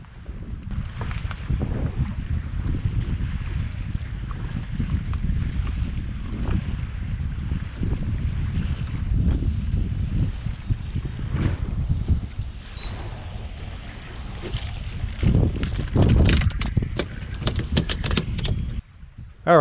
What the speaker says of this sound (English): That wind's really blowing offshore.